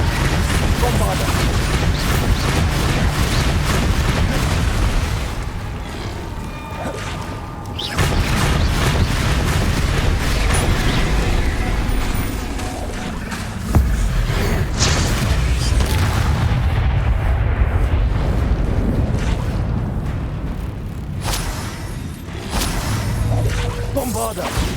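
Bombarda spell blasts and combat effects in Hogwarts Legacy boom repeatedly among whooshes and crashes, loud and near, over a dense game soundtrack, with brief drops between bursts.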